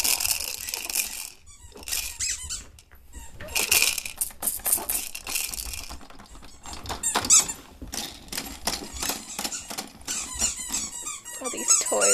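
Repeated bursts of sharp, high squeaking from a rubber toy being chewed, irregular and close, with brief pauses and soft thumps between.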